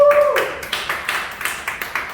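A congregation clapping in a church gathering, a short round of moderately close, fairly regular claps that start after a brief tone and keep a steady rhythm.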